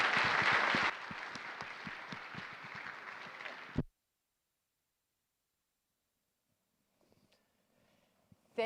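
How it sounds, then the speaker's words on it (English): Audience applause for panelists at a fall industry summit, a loud burst of many hands clapping that quickly settles into steadier, quieter clapping and cuts off abruptly into near silence, with faint sounds later. "Everybody, please give our panelists a big round of applause."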